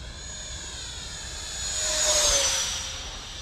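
A 3D-printed RC Gripen jet makes a high-speed pass, its ducted-fan whine swelling from a steady hum to a loud, near peak and then easing away, with no voices.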